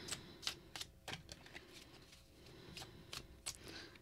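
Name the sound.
tarot cards being shuffled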